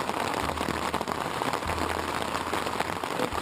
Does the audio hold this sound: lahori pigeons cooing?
no